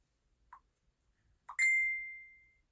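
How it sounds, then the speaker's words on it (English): A phone message notification dings: a soft blip, then a bright clear chime that rings out and fades over about a second in a quiet room. "I just keep getting messages on this phone"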